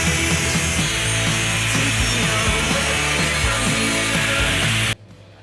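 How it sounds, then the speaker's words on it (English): Angle grinder cutting a rough chef's knife profile from steel, a loud continuous whine with a fluctuating rasp, close up, stopping abruptly near the end. "cut out the profile with an angle grinder or with a bandsaw. I personally prefer the angle grinder since it's a faster method"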